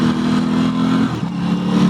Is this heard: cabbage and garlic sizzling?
no